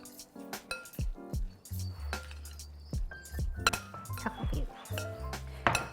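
Chicken, pesto and brown rice being mixed in a bowl, with repeated light clinks of a utensil against the dish and soft scraping, close and intermittent, while a voice talks between the strokes.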